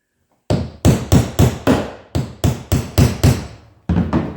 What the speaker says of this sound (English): And a really heavy hammer. You want some impact.